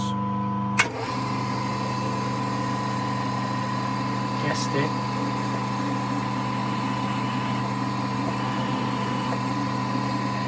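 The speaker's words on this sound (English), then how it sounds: "So we're just drilling the holes using sequencer drills." A steady mechanical hum of a three-phase sequencer drilling machine running throughout, drilling 10mm holes, with a sharp knock near the start and a few faint clicks; a brief voice speaks over it.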